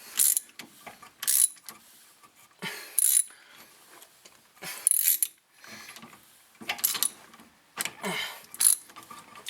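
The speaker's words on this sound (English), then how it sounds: "push on the caliper from the back and spin this piston" Brake caliper piston on a 2004 Volkswagen Jetta TDI rear brake being spun back into its bore with a tool, giving repeated short ratcheting, grinding mechanical bursts in a steady rhythm, close and fairly loud with no talking.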